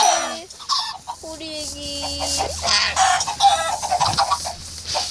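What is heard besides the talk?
chickens clucking in Minecraft video game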